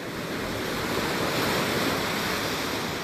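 Sea waves wash steadily onto the beach at Segur de Calafell, a broad continuous surf roar with wind noise on the microphone, fairly loud and unbroken with no talking.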